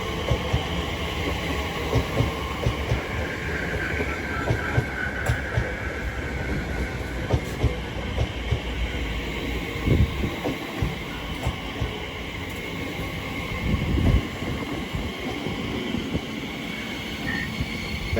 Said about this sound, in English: Soon to arriving now is the slightly delayed 1505 Elizabeth Line series from Heathrow Terminal 4 to Abbey Wood